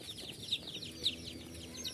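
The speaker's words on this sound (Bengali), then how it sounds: "এইটা কি না খাসি মুরগি?" Chickens at a poultry market, tiger and capon birds, giving soft repeated clucks and chirps, three brief louder calls standing out over a quiet crowded background.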